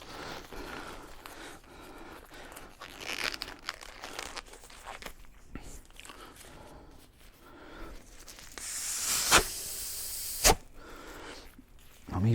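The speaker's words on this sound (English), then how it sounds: "But when it comes to this, I'm putting gloves on." Disposable one-size plastic gloves are pulled onto hands, giving faint crinkling and rustling, then a few louder snapping crackles near the end, soft and close.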